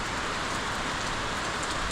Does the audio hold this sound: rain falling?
yes